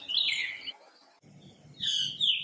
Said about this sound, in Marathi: काटेरीसावर फुलांनी बहरले की हा सुंदर बुलबुल मंजूळ स्वरांची आतिषबाजी